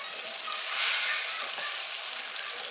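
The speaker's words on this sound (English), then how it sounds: "We're gonna reduce the strawberries to the point where they become syrupy." Strawberries sizzling in a hot pan as they reduce to syrup, a steady close crackling fry with a brief swell of hissing, no talking.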